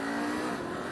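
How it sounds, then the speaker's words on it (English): KTM 890 Adventure R motorcycle accelerating hard with a quick shifter, a brief loud, close engine roar rising in pitch over one second. "all of these bikes are enabled with the quick shifter"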